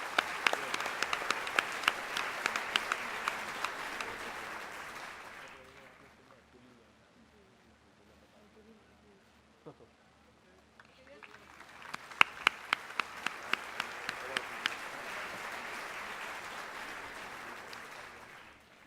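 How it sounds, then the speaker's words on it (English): Audience applause at the 2019 Greenwich University convocation fades out, leaving a quiet stretch with a faint voice, then a new round of clapping rises and continues, with a few sharp claps standing out. "Ladies and gentlemen, a round of applause for the proud father."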